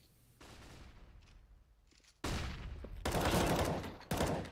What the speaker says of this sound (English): The Deagle up close and personal here of Esperanto to finish it off